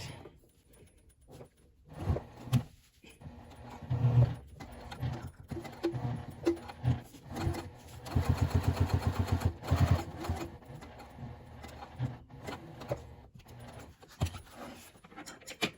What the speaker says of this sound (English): Now we're going to top stitch the pocket.